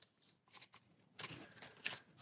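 Turn order cards for the Aeon's End board game are shuffled by hand, giving a quiet flurry of papery riffles and soft slaps, faint and close with no talking.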